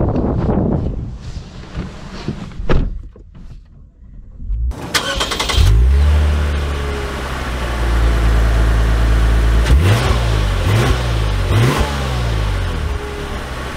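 A 2023 Lexus RC 350 F Sport's engine starts with a sharp burst, then revs and accelerates in loud, rising surges, with rhythmic gear-change dips. Wind buffeting is heard near the microphone.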